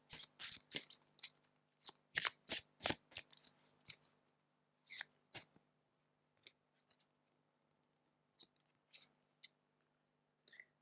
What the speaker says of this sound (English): I'm just gonna pull one card.